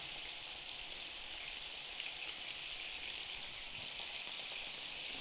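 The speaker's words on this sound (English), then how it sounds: "We're going to let that sear 5 to 7 minutes on each side." A second-cut brisket in a garlic honey marinade sears in a hot pan, giving a steady, even sizzle with a bright crackling hiss that holds at a moderate level throughout, with no talking.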